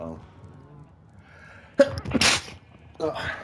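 A single loud, close sneeze bursts out sharply after a quiet stretch, with a short exclamation from the same person and a bit of speech afterward.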